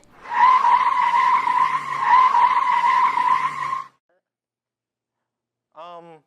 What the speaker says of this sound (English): There's a bus coming, and I do need to beat it across the crosswalk.